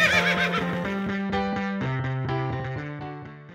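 Horse neigh as a sound effect, a loud harmonic whinny with wavering pitch that descends in stepped tones and fades over a few seconds, standing alone without speech.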